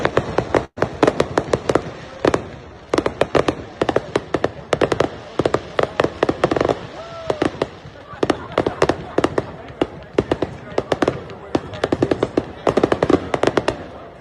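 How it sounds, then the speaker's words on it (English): Fireworks crackle and bang after an outdoor event, dense bursts of sharp pops and rattling reports going off in rapid clusters for many seconds. "We had a little fireworks show after the event, which was pretty amazing."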